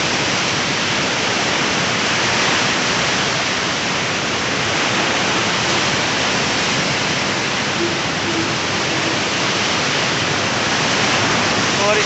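Fast-flowing river water at the Koshi bridge in Nepal roars as a steady, dense wash of broadband noise, loud and unbroken throughout, with no voices heard.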